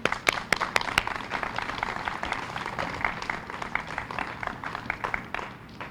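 An audience at a women's suffrage ceremony applauds with moderately loud, steady clapping. A few sharp, close claps stand out early on, and the applause fades slightly by the end.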